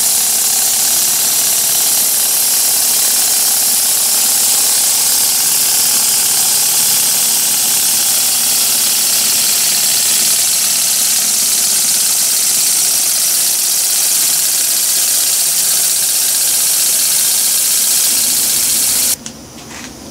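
A model steam engine runs and drives a model dynamo through a belt over a larger pulley on the engine and a smaller one on the dynamo. Its loud, steady mechanical chugging and whir stops abruptly near the end.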